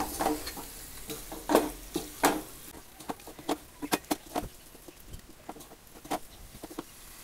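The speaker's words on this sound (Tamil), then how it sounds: "இதெல்லாம் சேர்த்து நல்லா கிளறி விட்டுக்கணும்" A spoon stirs masala gravy for tomato rice (thakkali sadam) in a pan, giving a run of close scraping and tapping strokes in an uneven rhythm over a faint sizzle, with no talking.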